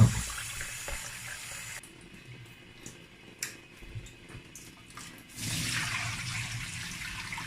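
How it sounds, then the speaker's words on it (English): Peeled beans are rinsed in water at a sink, with a running tap and splashing that swell loudly near the end, alone without speech. "So I'm going to just rinse it now."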